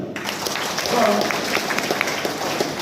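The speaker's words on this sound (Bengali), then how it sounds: "এই দুজনের জন্য সর্বোচ্চ একটা করতালি।" Audience applause at a youth event, a steady crowd of clapping with a voice speaking briefly over it, moderately loud and sustained.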